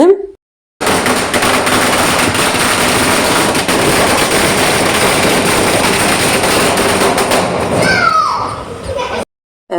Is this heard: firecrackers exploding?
yes